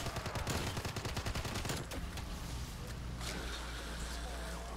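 Gunfire from weapons in Black Ops 3 zombies play on the Kowloon custom map, a quick run of rapid shots early on, then fading into a quieter ambient rumble.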